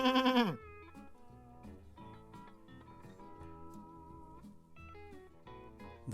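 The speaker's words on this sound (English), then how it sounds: "Here's the sheep." A farm sheep bleats in a single loud, close call at the start, followed by a steady tonal musical background with no further animal calls.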